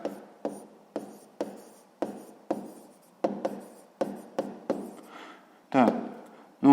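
A pen scratches out a math check on paper in short repeated bursts of strokes, close and fairly quiet, with a brief rustle near the end.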